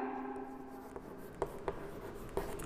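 A definition is written out during a Class 10 chemistry lesson, heard as faint, close scratchy strokes with a few soft tapping ticks in a quiet room.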